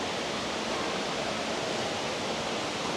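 Dense, even hiss of splashing and rushing water fills a large echoing indoor water park, a steady wash of noise with no distinct voices.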